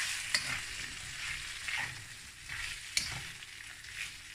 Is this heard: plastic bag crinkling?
no